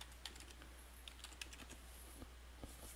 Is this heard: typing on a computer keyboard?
yes